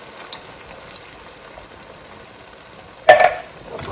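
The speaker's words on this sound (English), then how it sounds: "I'm just going to add a tin of tomato, chopped tomatoes," A tin of chopped tomatoes tipped into a hot pan of vegetables for a chickpea and roasted aubergine stew: a quiet low hiss, then a sudden loud splattering sizzle near the end that fades quickly.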